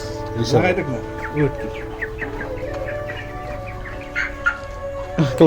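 Chickens on a poultry farm cluck in short, scattered bursts, with one louder call near the start and several quick clucks toward the end over a steady background hum.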